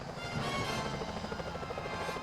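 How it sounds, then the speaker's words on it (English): A security helicopter's rotor in the video game Sly Cooper: Thieves in Time thrums in a fast, steady chop, a continuous mechanical beating that stays even and moderately loud. "Those security choppers are bad news."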